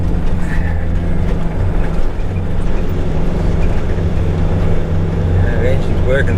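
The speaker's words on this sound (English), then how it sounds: "The engine's working fairly hard." A 4WD with a rear locker engaged grinds along a rough off-road bush track, its engine held around 2,500 to 3,000 revs in a loud, steady drone with occasional clunks.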